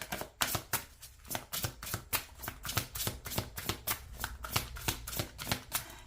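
Tarot cards being shuffled and drawn, a rapid, steady run of crisp riffling flicks and slaps, close and fairly quiet with no talking.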